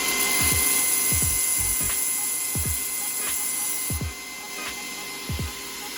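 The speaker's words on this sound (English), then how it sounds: "this is a really good example of things that you want to do on a linishing machine" A linishing attachment grinds sharp edges off metal: a steady mechanical whir runs throughout, broken by repeated short knocks as the metal is pressed to the belt, with no talking.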